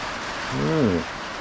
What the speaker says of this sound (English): Sorry about the rain, you probably can't hear shit.